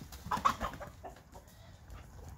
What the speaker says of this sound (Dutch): Leuk hè, die kippen.